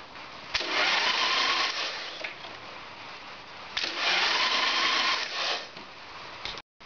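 A Harley-Davidson Evo Sportster engine cranks over on its starter with the relay bypassed, in two loud whirring bursts of about a second and a half each separated by a brief pause, then a short click before stopping.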